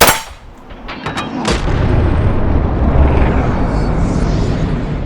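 Gunshot fired in a ballistic high-speed test as a dry control shot: a sharp crack with a few quick clangs up front, then a loud sustained rumbling roar that fills the rest.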